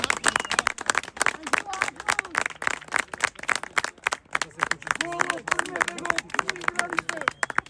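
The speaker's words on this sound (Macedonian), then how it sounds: "Ајде, аплауз." Spectators at a children's football match, FK Vodno against Shkupi, clap in quick uneven bursts, with voices talking and calling out throughout.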